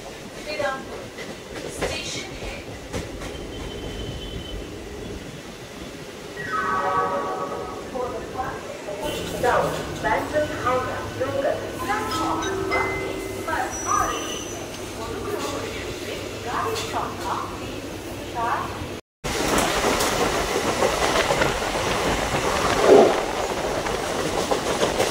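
A Bardhaman–Howrah local train rolls along with steady rail rumble and clatter, voices talking over it throughout and a brief dropout near the end before the noise resumes.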